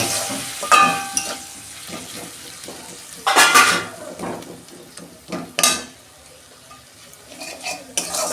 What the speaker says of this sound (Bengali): এটা আমি 2 মিনিট কষতে নেবো ভালো করে